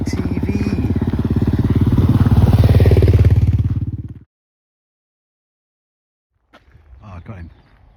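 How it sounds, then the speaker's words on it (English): ATV engine roaring close by, a loud steady buzzing drone that swells and then cuts off abruptly, followed after a pause by brief voices. "ATV"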